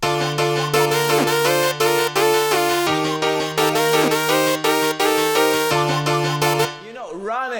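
Bouncy, piano-like accent chords stab in a rhythmic pattern within a music production, loud and close over a sustained low bass, ending on a fading tail with a few falling pitch swoops.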